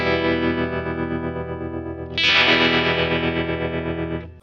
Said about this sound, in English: Modify makes the tremolo go faster.